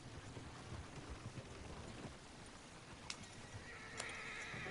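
Horses in Red Dead Redemption 2 whinny and neigh amid clip-clopping hooves, with a steady rain-like hiss underneath and a couple of sharp higher cries near the end.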